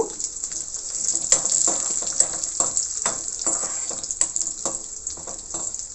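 Dried red chilies crackle and sizzle in hot ghee on a stove, a steady close frying hiss broken by scattered pops and stirring clinks, with no voices.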